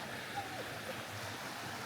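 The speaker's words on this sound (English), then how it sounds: "with a peaceful river flowing by" A peaceful river flowing by near Auchindoun Castle, a faint, steady watery rush with soft wind, quiet and continuous for a brief moment.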